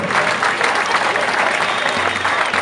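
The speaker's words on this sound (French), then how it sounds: "Je crois que ça peut s'applaudir" Loud, dense applause from a crowd, steady clapping filling the whole stretch without pause.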